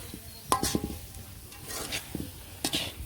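Raw mango pickle is stirred and mixed with chili powder and spices. A few sharp scraping and clinking strokes come up close, separated by short pauses, with a faint sizzling hiss between them and no talking.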